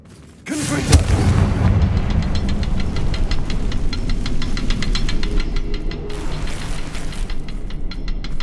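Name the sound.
Confringo spell cast in the video game Hogwarts Legacy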